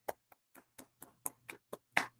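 Nine sharp hand claps ring out close and dry in an uneven rhythm, the last one loudest, with a faint low hum underneath and no talking.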